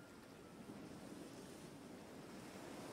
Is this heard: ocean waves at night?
yes